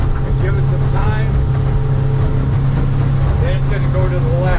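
A 2026 Hewescraft 200 ProV ET HT boat's motor drones steadily and loud through a sea trial, with water and wind noise around it and someone talking over it.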